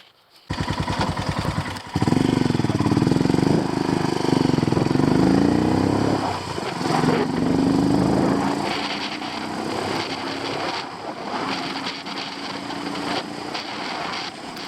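Royal Enfield Himalayan motorcycle engine running on an old coach road in the Lake District, Cumbria: a loud, steady single-cylinder drone that revs and shifts pitch, with heavy wind noise buffeting throughout.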